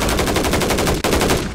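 Rapid automatic gunfire from a game, a loud, fast, even stream of shots with a brief break near the end before firing resumes.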